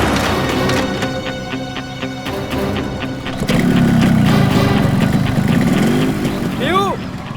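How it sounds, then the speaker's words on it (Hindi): A motorbike engine starts and runs with a rough, steady rumble that swells louder partway through. Voices can be heard over the engine noise. "बाइक स्टार्ट हो गई, जल्दी आओ।"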